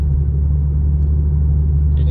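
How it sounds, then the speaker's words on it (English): A 2016 B8.5 Audi S4 fitted with a CTS turbo catless catback exhaust drives along, giving a steady, loud low drone and rumble from inside the car, with no clear revving. "driving with the exhaust"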